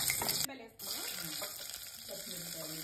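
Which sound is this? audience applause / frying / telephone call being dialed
frying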